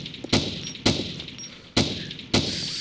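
Four sharp gunshots fire in DayZ at an uneven pace, each a loud close crack with a short decaying tail over a steady background.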